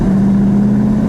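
A 1970 Dodge Challenger T/A with a 340 Six Pak V8 holds a steady, loud engine drone heard from inside the car, a brief, even rumble with no voices.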